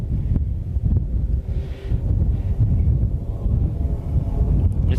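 Gusty wind buffets the microphone at Willow Springs International Raceway in California's Antelope Valley, a steady low rumble with surging gusts filling the whole stretch, no voices.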